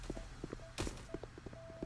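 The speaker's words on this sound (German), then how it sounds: "Ich höre Schritte." Faint, evenly spaced footsteps in the mobile shooter game Guns of Boom tap along in a steady rhythm, with one louder scuffing thud midway.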